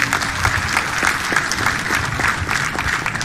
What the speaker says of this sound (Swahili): Huyo mama hapo, mpigie makofi jameni.